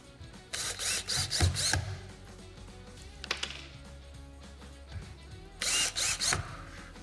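Power drill driving screws to fix a motorcycle dashboard panel in place, three short bursts of whirring drilling, loud and close, with quiet handling sounds between.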